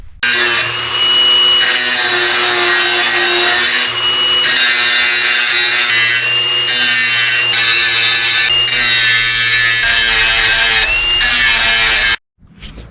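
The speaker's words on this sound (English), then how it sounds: "now I'm gonna go and start grinding them" A power grinder wears down leaf spring steel being shaped into a crossbow limb, a loud, steady, high metallic whine with shifting pitch that runs without a break before cutting off abruptly near the end.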